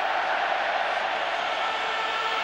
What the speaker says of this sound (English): The oles are coming from the crowd.